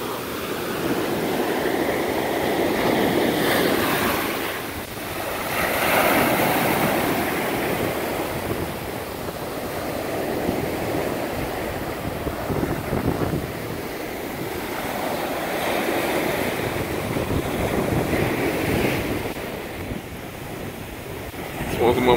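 Ocean waves wash up on South Beach in Miami in slow surges of surf, rising and falling at close range under steady wind noise, with a voice heard briefly at times.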